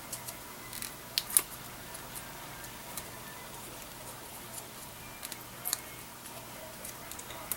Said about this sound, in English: And then I'll cut a long strip for that.